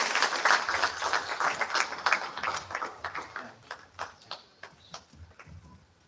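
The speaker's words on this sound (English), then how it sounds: "let us celebrate their contribution with a warm round of applause" An audience applauds at a ceremony honouring contributors, the individual claps fairly close and distinct, starting dense and then thinning into sparser, separate hand claps that fade out.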